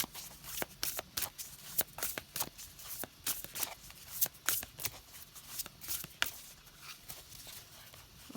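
Crisp, rapid riffling and slapping of large, stiff tarot cards being shuffled, in repeated bursts close by, with no talking.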